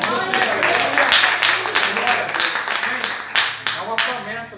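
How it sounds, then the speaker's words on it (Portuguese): Congregation clapping for Jesus during a church service, a dense, steady patter of many hands with scattered sharper claps and a few voices mixed in throughout. "Quem quer dar uma salva de palmas para Jesus?"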